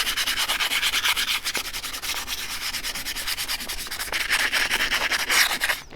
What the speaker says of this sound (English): So we recommend just using some sandpaper, either like a 240 or a 320 grit, and just doing a little bit of light sanding,